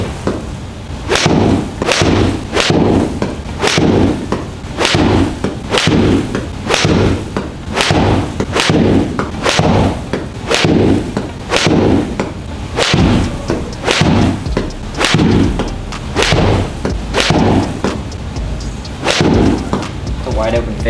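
A golf club striking balls one after another at a practice session, loud sharp impacts repeating roughly every second, each with a short ringing tail, steady and close with no talking.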